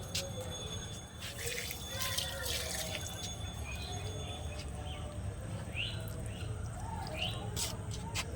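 Water trickles and splashes onto garden plants outdoors, a soft continuous patter with birds chirping in the background.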